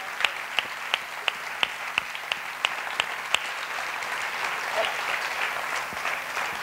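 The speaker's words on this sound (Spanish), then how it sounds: "Un fuerte aplauso para él." Audience clapping at a political program presentation in Valladolid, with a few loud distinct claps in a regular beat over a softer crowd patter that gradually becomes more even.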